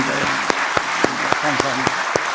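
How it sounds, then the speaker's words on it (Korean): A church congregation at a New Year's Eve service claps warmly for the choir and worship musicians, steady applause with distinct louder claps, while a voice speaks over it. "우리 뜨거운 박수로 한번 축하하고 축복하겠습니다"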